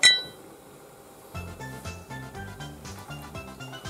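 A glass chimes brightly at the start for a Japanese toast, ringing out before fading as soft background music with a steady beat comes in.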